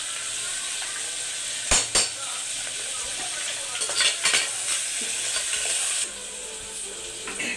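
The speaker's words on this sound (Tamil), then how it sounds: "ஒன்றா போட்டு நல்லா வதக்கணும்" Onions, tomatoes, curry leaves and ginger-garlic paste sauté in a pan with a steady close sizzle, while a spoon scrapes and clinks against the pan in a few sharp strokes.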